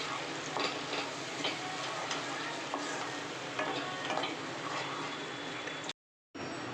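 A pinch of hing stirred into hot oil in a pan while cooking sukha aloo dum: steady close sizzling with soft scraping stir strokes, ending in a sudden drop to silence.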